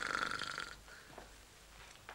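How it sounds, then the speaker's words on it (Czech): A single snore, a rough buzzing inhale that fades, followed by quiet breathing and a faint soft sound at the end. "Chrápe."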